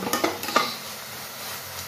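Vegetables stir-fried for Chinese fried rice: a few quick utensil clanks and scrapes against the pan at the start, then a low steady sizzle, close up and without voices.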